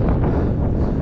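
Wind buffeting a microphone during a drone flight, a loud continuous low roar of gusty rumble filling the whole moment with no other sound clearly audible.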